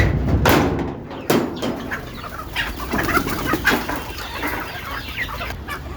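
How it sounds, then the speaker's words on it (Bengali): Desi chickens cluck steadily as they are let out of their coop, with several birds calling close by over light rustling and a few sharper bumps. "আর মুরগিগুলোকে ছাড়তেছি"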